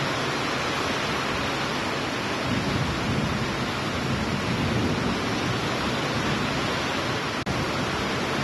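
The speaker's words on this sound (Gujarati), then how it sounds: "ગાજવીજ સાથે વરસાદનું જોરદાર ઝાપટું પડ્યું હતું" A night thunderstorm with strong wind and heavy rain in Bhavnagar, a dense, continuous roar of downpour with rumbling thunder underneath, loud and unbroken throughout.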